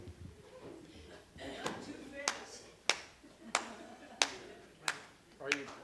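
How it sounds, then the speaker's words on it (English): A church congregation claps along to an opening song, a regular beat of sharp claps about every half to two-thirds of a second, moderately distant, with faint talk and music underneath. "Are you clapping on the 2 and 4 or on the 1 and 3?"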